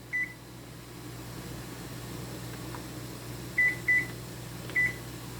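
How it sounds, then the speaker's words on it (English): A kitchen timer for steaming puto cupcakes chirps in short electronic beeps, one early and then a quick cluster of three near the end, over a low steady appliance hum. "So I cover it and set this for a timer for 18 minutes."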